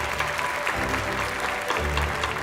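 Sustained applause from a large audience honoring the graduating medical school class of 2023, a dense, steady wash of clapping with a low rumble of crowd noise underneath throughout.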